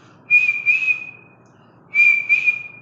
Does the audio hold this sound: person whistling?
yes